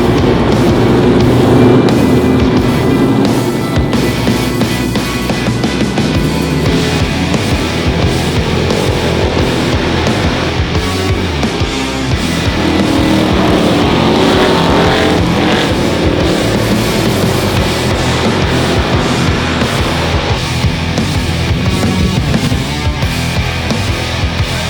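Street stock race cars roar through a dirt-track heat race, engines loud and continuous for the whole stretch with rising and falling drones as the pack passes, no voices over it.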